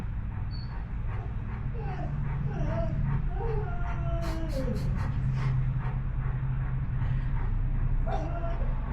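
An American Bully dog whines and howls in rising, wavering cries, with a few short yelps, over a steady low background hum, fairly close by.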